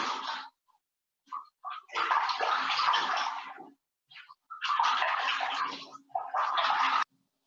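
Water pours and sloshes in a vessel as toor dal is rinsed. Several loud splashing bursts are separated by short silences, close by and with no voices.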